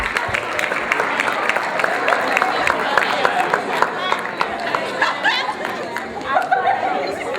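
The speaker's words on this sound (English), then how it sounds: "Give a round of applause right quick." Audience at a university concert claps and cheers steadily through the whole stretch, a dense wash of applause mixed with crowd chatter and whoops.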